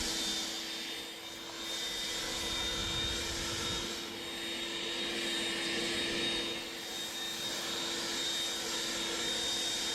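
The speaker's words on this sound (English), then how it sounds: "Again, this little blower has some power now." A small battery-powered leaf blower pushes debris back onto a lawn, its steady airy whoosh holding close and continuous with slight surges in intensity throughout.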